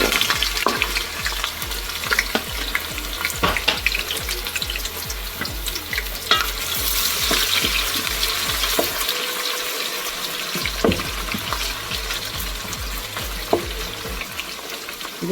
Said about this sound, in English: we're going to let this onion saute for just 1 minute